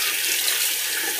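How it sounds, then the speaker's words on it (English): Close, steady rush of running water as the face is wetted at a sink before shaving, a continuous splashing hiss with no voices. "So let's wet the face."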